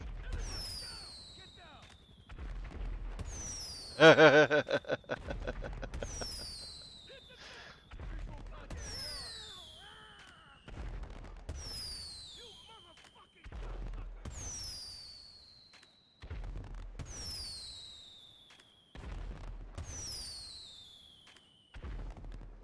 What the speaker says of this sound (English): I have literally fired every single one of my fireworks off